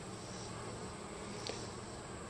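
Honeybees fly around a beehive in Kentucky, a steady close buzzing hum of many wings with one bee zipping briefly past, with no talk.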